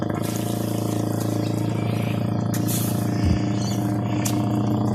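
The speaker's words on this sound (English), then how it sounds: "As the chamber fills up, this will start pulsating by itself." Water fills the chamber of a homemade sapphire pulsator jig, a loud, continuous rushing and gushing flow with a steady mechanical hum underneath and no speech.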